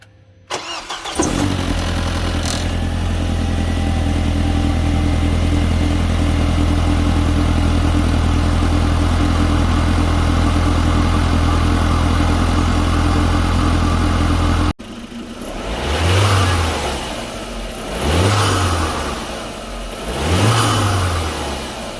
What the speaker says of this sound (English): So there's that cold start and some cold start rev.